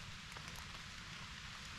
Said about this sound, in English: The rain has started in the last few minutes.